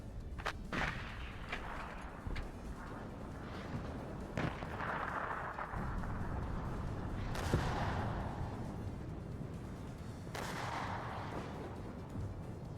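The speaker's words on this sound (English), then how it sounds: "But you guys see the artillery coming off. Right there from the Chinese." Artillery fire from the Chinese side in the WARNO strategy game: sharp distant booms and cracks at irregular intervals over a rumbling battlefield, some trailing into longer whooshing roars, fairly quiet overall.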